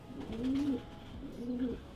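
A racing pigeon coos at a Romanian loft, two soft, low, rolling calls a second apart, fairly faint against quiet background noise.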